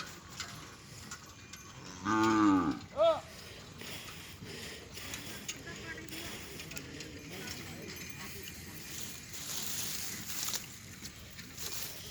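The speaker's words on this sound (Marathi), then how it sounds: "हे पहा चालले तोडीला गाडी बैल घेऊन" A bullock hitched to a cart lets out one loud, drawn-out low, then a shorter call, against outdoor background noise at a sugarcane harvest.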